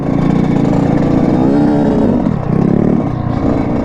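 A Grom and a Supermoto motorcycle ride a slippery dirt trail, their engines giving a loud, close, continuous mid-pitched drone that rises and dips slightly with the throttle throughout.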